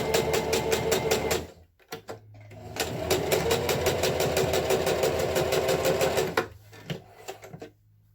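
A sewing machine stitching a cloth face mask runs in close, loud, rapid mechanical bursts, pausing briefly, then sewing steadily for about four seconds before slowing to a stop with a few final stitches.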